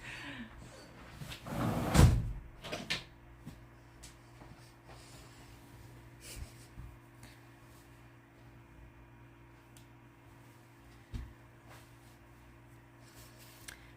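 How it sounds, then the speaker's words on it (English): A room door closed by hand, one loud close thump near the start followed by quiet room tone and a faint later knock, no talking. "Give me a second to close my door."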